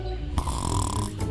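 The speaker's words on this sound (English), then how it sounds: "Is it snoring?" Cartoon T-Rex snoring in an animated cave-kids show, a loud wheezy rumbling breath with a second surge near the end, set against a steady musical or ambient bed.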